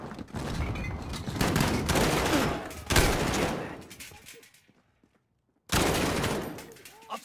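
Heavy gunfire rattles through a battle in Call of Duty: Modern Warfare (2019) during an embassy assault, sustained bursts with sharp cracks. It drops to near silence around the fifth second, then erupts again loudly. Faint voices sit under the shooting.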